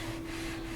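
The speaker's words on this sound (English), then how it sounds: "There's some more sanding noises." Steady abrasive rubbing of sandpaper removing the finish from a Rickenbacker bass fretboard, a continuous close, even scratchy sound with no pauses.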